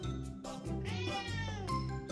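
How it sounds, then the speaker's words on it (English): A cat gives a long, drawn-out meow with a rising and falling whine, loud and close, heard on its own with no talking. "Why are you meowing at me?"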